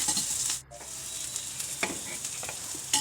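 Onion and garlic sauté in hot oil in a pan for an omelette, a steady close sizzle and crackle running throughout, with a brief dip and a few scraping stirs of a utensil.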